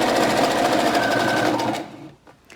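A sewing machine stitches fabric in a loud, fast, steady mechanical whir that runs continuously for nearly two seconds, then stops, leaving a few faint handling taps.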